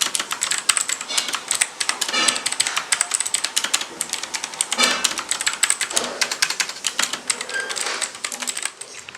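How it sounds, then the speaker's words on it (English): Rapid clacky keystrokes on an HP GK320 mechanical gaming keyboard, close and crisp, with fast irregular bursts of typing and no talk. "This is how the sound of the keyboard feels like."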